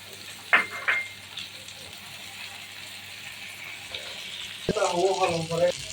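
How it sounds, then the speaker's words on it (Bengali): An egg fries in mustard oil in a frying pan, giving a low, continuous sizzle that swells near the end, with brief bursts of a person talking early on. "ডিমটা দিয়ে দিচ্ছি এখানে ডিমটাও ভেজে নিবো"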